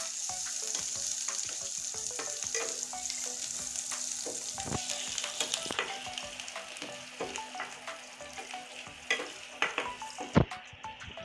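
Crushed garlic fries in hot oil with a busy crackling sizzle, broken by sharp pops and stirring scrapes that get louder near the end.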